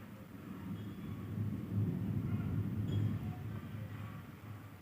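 Low, continuous rumble of thunder rolling through steady rain, swelling and fading over a few seconds in the background with no speech.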